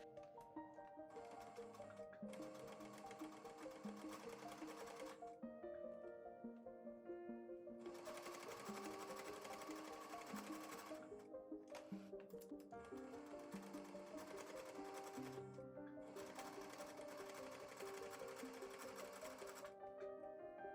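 A sewing machine stitches a fabric face mask in steady whirring bursts, running continuously for a few seconds, pausing briefly, then resuming at close range with no talking.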